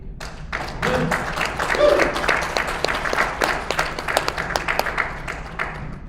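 A crowd applauds steadily for several seconds, dense clapping that swells early and slowly thins out, with a voice briefly heard over it.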